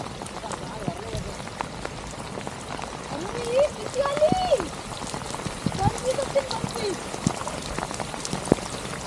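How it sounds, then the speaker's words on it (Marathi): Heavy rain falls steadily outdoors at the seashore during a catch, a dense patter of drops under faint voices and scattered short calls. "पाऊस पण खूप मोठ्या प्रमाणात पडतोय."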